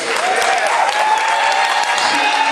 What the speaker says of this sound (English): could we have a rousing round of applause for Dolores Majors?